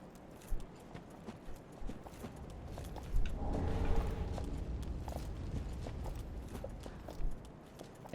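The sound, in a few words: horse hooves in Dark Souls 3 video game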